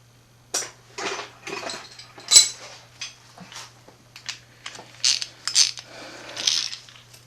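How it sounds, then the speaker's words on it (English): Metal tools clink and rattle against one another as a hand rummages through a toolbox for a 12 mm ratchet in a home garage, with irregular bursts of clatter and short pauses, close and fairly loud. "See if I can grab another ratchet with a 12."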